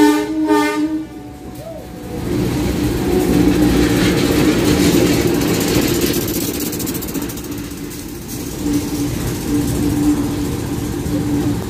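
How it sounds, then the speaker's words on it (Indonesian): A shunting locomotive in Surabaya, Indonesia rumbles past nearby, loud and sustained, after a brief horn blast at the start, with a continuous roar of wheels and engine. "tadi yang lewat lokomotif Langsir ke arah"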